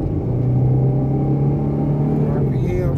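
2015 Ford Mustang on 32-inch wheels accelerating, heard from inside the car as a loud, steady engine drone with low rumble, rising slightly toward the end.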